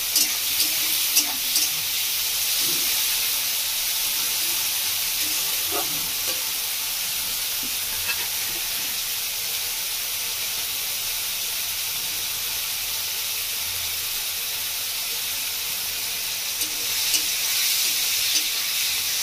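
Onion frying in a pan for a village-style Bengali rui posto fish dish, giving a steady, even sizzle and hiss with a few faint stirring clinks, no talk.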